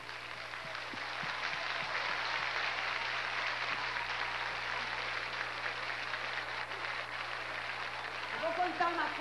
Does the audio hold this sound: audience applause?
yes